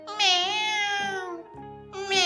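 A cat meows loudly and close in a spooken witch tale, two drawn-out harmonic cries separated by a short pause, with a low voice-like murmur beneath.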